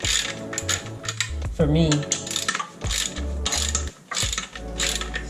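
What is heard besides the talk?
ratchet loosening Jeep Wrangler JK pressure plate bolts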